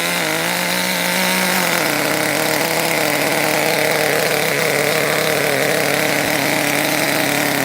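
A small nitro engine in an RC car idles loudly and continuously, a buzzy, slightly uneven drone with no talking; its carburetor had been gummed up.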